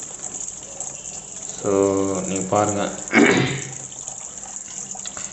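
Water gushes from a hose into the tub of a Panasonic 6.5 kg semi-automatic washing machine, rising in a couple of surging bursts over steady background hiss while someone speaks briefly.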